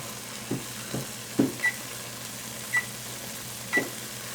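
Fenugreek lehyam is stirred and roasted in a pan, giving soft scattered scraping and tapping strokes with a few brief bright clinks of the spoon against the pan over a low steady background, with no voices.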